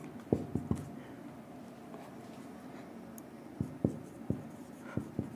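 A pen writes lecture notes during a physics class, producing soft, scratchy strokes with sharp taps at the start and end of words, quiet and close over a low room hum.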